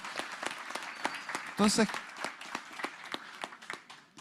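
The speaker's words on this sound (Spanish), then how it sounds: "Así que un aplauso a toda la conexión" Applause from an audience at a Spanish-language medical conference on retinal and optic nerve diseases, dense clapping spread throughout with a speaker talking over it.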